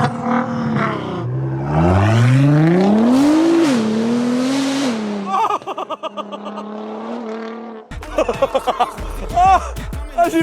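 A Nissan GT-R with about 700 hp and a Kawasaki H2R on a race track: a loud, close engine revs and climbs in pitch, drops back at a gear change, then breaks into choppy, stuttering bursts and pops.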